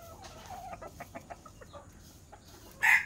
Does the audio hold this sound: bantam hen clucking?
yes